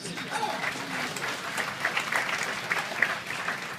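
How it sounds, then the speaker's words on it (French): An audience applauds Natalia at the inauguration of the OCAS office in Geneva, with steady moderate clapping across the room and some voices audible underneath. "On peut applaudir Natalia, hein, merci"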